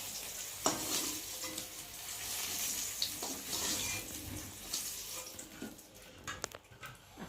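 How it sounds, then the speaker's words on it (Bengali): Bitter gourd slices frying in hot oil in a kadai with turmeric, a steady soft sizzle alongside stirring scrapes and a few sharp clinks, no voices. "উচ্ছেগুলো ভাজা ভাজা হয়ে গেছে"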